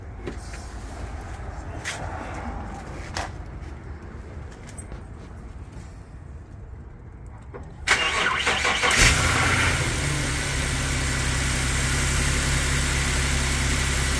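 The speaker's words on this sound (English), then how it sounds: "Go ahead and start it up and see how it sounds." Infiniti G37 engine starting after its first modification, with quiet ambient rustling, then a sudden crank and catch that settles into a steady, loud, close idle with a deep rumble.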